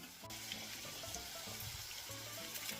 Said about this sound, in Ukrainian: Смажимо котлети із двох сторін